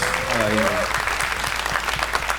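An audience on a studio talk show applauds director Asif. The clapping is dense and sustained, and a brief voice is heard near the start.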